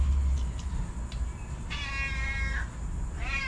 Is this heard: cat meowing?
yes